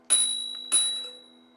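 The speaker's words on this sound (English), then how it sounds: "On this scooter, you've got a bell," Two loud, ringing strikes from the bell on a VMAX VX2 Pro electric scooter, each sharp ding trailing off into a sustained metallic tone, heard up close with nothing else in the background.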